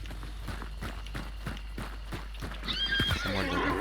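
Horse in the Hunt Showdown game, with hooves clip-clopping in a steady rhythm that builds to a loud, near whinny at the end; no talking.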